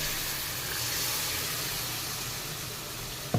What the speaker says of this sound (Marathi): हे मिक्सरच्या भांड्यातलं मी थोडंसं पाणी घालते आहे